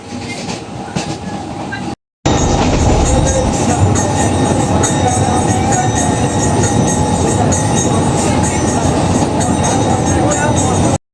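A loud local passenger train near Digha rumbles and rattles steadily from close by, its wheels clattering continuously after a short break near the start.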